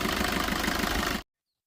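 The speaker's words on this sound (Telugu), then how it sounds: "ఇంజిన్ సౌండ్ కూడా చాలా స్మూత్గా ఉంది" A 2016 Swift Dzire VDI diesel engine idles with a steady, close throbbing rumble for just over a second before cutting off abruptly into silence.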